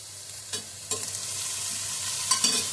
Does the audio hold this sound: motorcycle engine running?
no